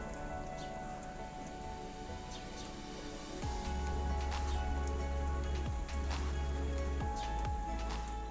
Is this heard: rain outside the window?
yes